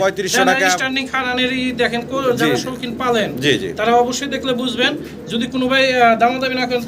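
Adult male and female pigeons coo in repeated throaty, warbling calls, close and overlapping, with people talking among them.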